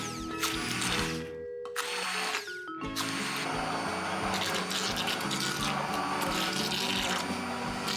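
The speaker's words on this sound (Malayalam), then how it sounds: "ഇതിനായി നിങ്ങൾക്കൊരു ഹാൻഡ് ബ്ലെൻഡർ യൂസ് ചെയ്യാം" A hand blender purees cooked carrots for carrot halwa, a loud continuous whirring motor with a brief pause and restarts early on, then a steady churning drone with liquid slosh.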